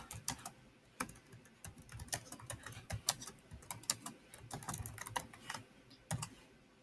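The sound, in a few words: typing on a computer keyboard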